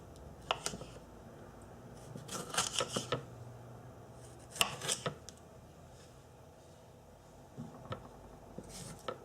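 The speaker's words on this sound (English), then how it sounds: "And then I'm going to quarter the tomatoes." Knife quartering tomatoes on a cutting board while cooking steak with chilli sauce, heard as a few scattered sharp chopping taps in separate bursts, with quiet gaps between.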